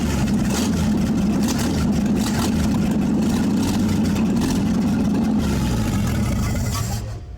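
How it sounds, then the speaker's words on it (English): An old Chevy 235 inline six-cylinder engine in a classic Chevy 3100 truck, fitted with a beehive oil filter and no exhaust yet, runs with a loud, steady low rumble close by until it cuts off at the end. "That sounds pretty cool to be an old 6-cylinder."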